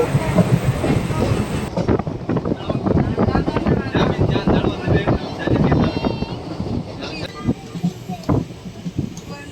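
A passenger train travelling from Kozhikode toward Tenkasi rumbles along the rails with a loud, continuous clatter and rhythmic clickety-clack, while indistinct voices mix in beneath the noise.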